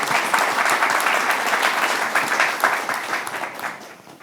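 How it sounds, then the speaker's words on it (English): Warm audience applause for six panelists at a session on sustainable food policy, a thick wash of clapping that stays full and then gradually thins toward the end. "a warm applause for the 6 panelists of this session"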